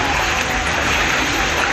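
Heavy rain pours down steadily in Cuddalore district, Tamil Nadu, after two days of downpour, a dense, loud, unbroken hiss with no talk.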